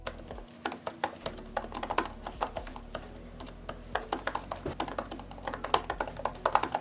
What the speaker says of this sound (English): the keyboard itself is great to type on